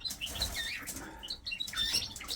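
Red canaries flap their wings in quick bursts and give short, high chirps, close by and heard alone.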